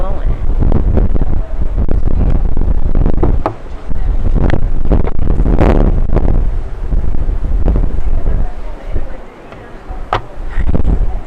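Wind blows outdoors, buffeting the microphone with loud, continuous rumbling gusts that briefly ease around the middle and near the end, with speech mixed in.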